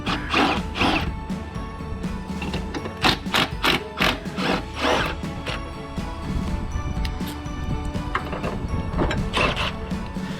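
Two bolts are undone on a VW Golf Mk7 during a tow bar install, with repeated rapid mechanical bursts and ratcheting clatter close by, coming in irregular clusters over steady background noise and no speech.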